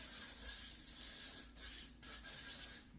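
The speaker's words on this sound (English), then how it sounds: "So I'm gonna flip it over and then just spray it all on your head." A steady aerosol volumizing root spray hisses continuously for a few seconds onto hair, close by, with brief dips in the stream partway through.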